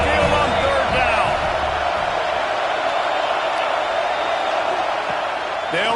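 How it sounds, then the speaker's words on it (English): A home crowd on Saban Field roars for the Alabama Crimson Tide on third down in the College Football 26 video game, a dense, loud and steady stadium din, with commentary running over it. "The Tide crowd rolling noise down on the Saban field on 3rd down."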